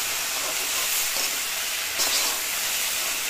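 Green chillies are dropped into hot frying oil with half-fried cabbage and sizzle in a steady hiss that swells slightly twice, close and even, with no talk.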